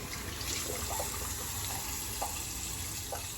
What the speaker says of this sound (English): I do use a cold water lather as well as a cold water rinse on my razor and on my face